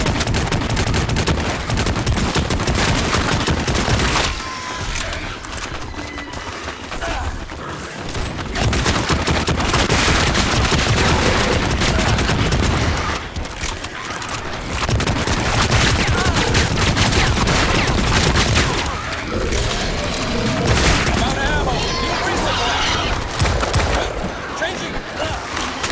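Dense, continuous gunfire from the Starship Troopers: Extermination video game as a base comes under attack, loud sustained automatic bursts with explosions layered throughout, near and unbroken.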